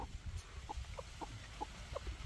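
Roosters kept on a village farm in rural India clucking in a steady series of short, evenly spaced calls, faint and somewhat distant over low rural background noise, with no speech.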